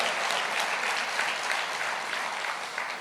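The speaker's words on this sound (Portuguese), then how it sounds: "pode aplaudir a hora que você quiser" Church congregation applauding during a sermon, a steady dense wash of many hands clapping continuously for about three seconds, moderately close and even in level, with no talking over it.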